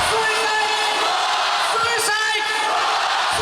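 Crowd of more than two thousand DC fans cheering and yelling at a premiere in Kyiv, a loud dense roar with whoops that fills the whole stretch.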